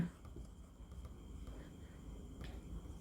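Quiet pen or marker scratching during a trigonometry lesson on heights and distances, soft and steady under a low background hiss, with no talk.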